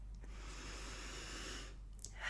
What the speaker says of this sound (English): let's just pause now and take another deep breath